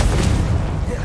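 A Confringo blasting spell explodes in Hogwarts Legacy, a short, heavy booming blast with a dense low rumble that fills the moment.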